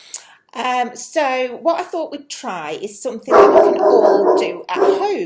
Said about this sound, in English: Excuse my dog barking there.